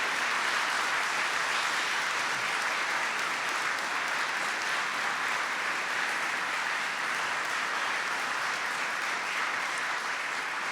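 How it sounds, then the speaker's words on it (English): Sustained, even applause from a large graduation crowd in a university ceremony hall, dense and continuous for the whole stretch with no breaks or voices standing out. "give a round of applause to your teachers, your families, and all of your supporters for everything they have done"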